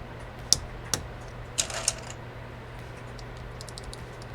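Sparse keystrokes on an Austin R4 mechanical keyboard with lubed switches, a few crisp clicks scattered over quiet room hum, close and without talking.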